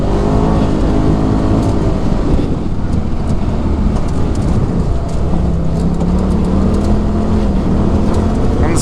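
A 2018 Polaris RZR XP Turbo UTV with Dynamix suspension on 32-inch BFG KM3 tires drives over jumps, its engine droning loud and steady throughout with strong wind rush across an open cab.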